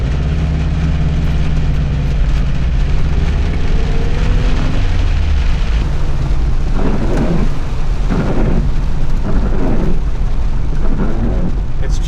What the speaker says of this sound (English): I love the sound of rain in this thing. It's got such a thin metal roof.